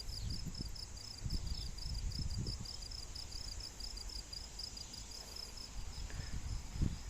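Crickets chirping at a farm, a steady, rapid high-pitched trill running throughout, with faint low rustling and handling noise underneath and no talking.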